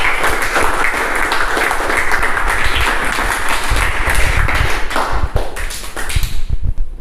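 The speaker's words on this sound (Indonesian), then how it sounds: "kita berikan tepuk tangan kepada kelompok 1." Classroom applause for a student group after a presentation, a dense, steady stretch of many hands clapping for about seven seconds before tapering off at the end.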